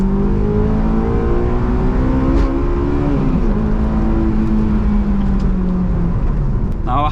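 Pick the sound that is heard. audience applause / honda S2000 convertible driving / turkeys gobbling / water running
honda S2000 convertible driving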